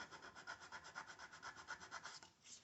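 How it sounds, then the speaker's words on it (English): A small piece of sandpaper rubs rhythmically across drilled wooden plugs to knock off burrs, a close, steady back-and-forth scraping with about a dozen even strokes and no voices. "just take a little piece of sandpaper, knock off the little burrs from your drill."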